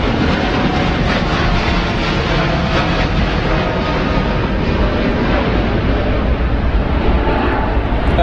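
A China Southern airliner departing London Heathrow makes a continuous, loud, broadband jet engine roar that holds steady throughout, with no talking heard over it.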